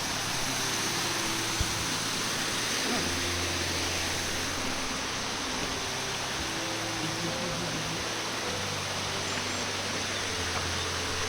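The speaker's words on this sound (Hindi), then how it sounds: "और उससे पहले ही लग जाता है एक खूबसूरत सा झरना, जो हमें रास्ते में ही पड़ रहा है" A waterfall beside the Rudranath trek trail in the Himalayas rushes in a dense, constant roar of falling water, steady throughout with no voices.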